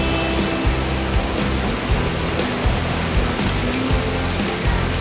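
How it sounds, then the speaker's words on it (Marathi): Heavy monsoon downpour with wind pours down in a dense, loud, unbroken hiss, with low gusty thumps pulsing underneath throughout. "भरपूर पाऊस पडत चालू झालेला आहे बघा"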